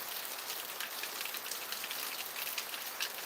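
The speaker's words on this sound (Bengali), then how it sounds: "কুমিল্লায় প্রচণ্ড পরিমাণ বৃষ্টি হচ্ছে" Heavy rain pours down in Cumilla, a constant hiss of drops on surfaces with scattered sharper patters. It is steady and close, with no voices.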